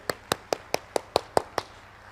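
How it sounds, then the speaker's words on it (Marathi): Applause for Santosh at a mind-power training session: eight sharp, evenly spaced claps in a quick steady rhythm, close and fairly loud, with no talking. "जरा जोरात टाळ्या वाजवा संतोष भाऊसाठी."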